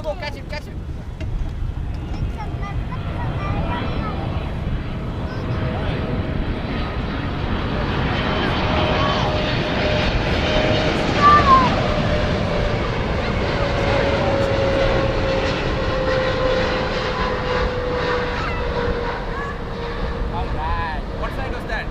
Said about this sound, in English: What flight was that? American Airlines.